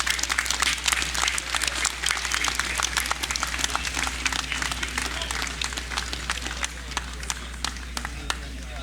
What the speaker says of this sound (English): Another round of applause for Mr. A.J.